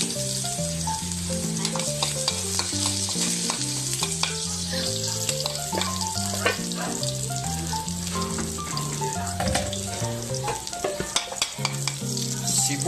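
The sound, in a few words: garlic sizzling and frying in a pan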